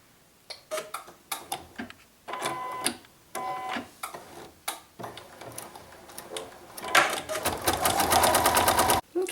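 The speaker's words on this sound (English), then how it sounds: "The machine, when it gets there, it will just stitch right over the tape." A sewing machine stitches a small flower mug rug, sewing over painter's tape, first in short stop-start bursts with gaps and then in a longer continuous rapid run of needle ticks, close and clear.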